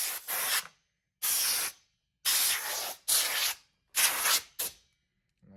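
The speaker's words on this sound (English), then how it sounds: "Get some compressed air, or a duster that you can get at the store is fine as well. Blow it out." Compressed air duster blowing dust out of a PS5 console, heard as five sharp hissing bursts of about half a second to a second each, separated by short silences, close and loud with no talk.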